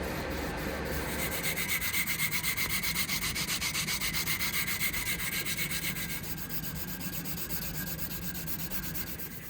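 Sandpaper rubbed steadily by hand over a leaf spring steel kunai blade, a continuous close, loud rasping scrape in fast even back-and-forth strokes with no talk.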